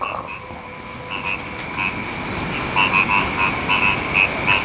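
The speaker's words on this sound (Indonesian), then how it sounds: "Suara kodok." Frogs croak repeatedly in a forest after rain, a chorus of short, fairly close calls over a faint steady background hum.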